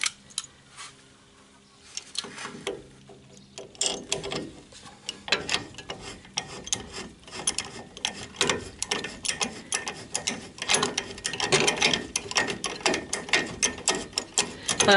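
Ratchet tightening bolts on the rear axle of a Citroën Traction 11B, a rapid run of close mechanical clicks that starts sparse and thickens into a steady, busy ratcheting, alone without talk.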